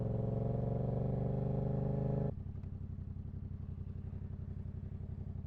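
A motorcycle on a test course idles loudly nearby, then its steady engine note drops into a lower, pulsing rumble as the bike rolls off on a cool-down lap, with no voices.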